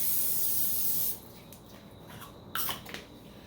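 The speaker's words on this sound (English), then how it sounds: "Do a spray a little canola oil" A short burst of canola oil cooking spray hisses into a crock pot for about a second, close and fairly loud, followed by quiet clinks and a brief rustle.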